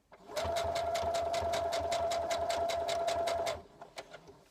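A domestic sewing machine stitches bias binding around a dress armhole, a steady rapid needle chatter with a constant motor whine lasting about three seconds before it stops, followed by a few faint handling clicks.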